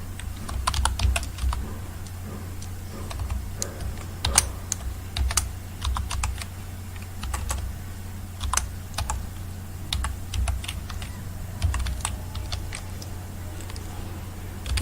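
Steady typing on a computer keyboard while entering C code for a while loop, with irregular clusters of crisp key clicks over a low constant hum, close by and alone without talk.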